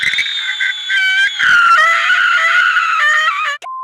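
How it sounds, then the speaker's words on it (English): Shrill, sustained scream from a woman in the 1989 Japanese tokusatsu series Kousoku Sentai Turboranger, loud and close, wavering in pitch for several seconds before breaking off in a short final cry. "screaming, you can clearly hear Haruna."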